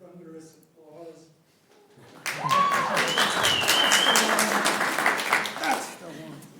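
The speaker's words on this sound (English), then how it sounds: "I guess the part where the thunderous applause" Audience applause at a city council meeting bursts in after a short spoken exchange and carries on as dense, steady clapping filling the room, with a voice over it briefly.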